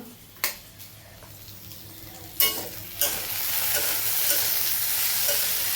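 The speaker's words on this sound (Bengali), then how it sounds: "পুড়ে গেল আলু ভাজা পুড়ে গেল ভাতও" Potatoes frying in a pan give a steady close sizzle, broken by a few sharp clinks and scrapes of a spoon stirring them, and the hiss builds louder and denser toward the end.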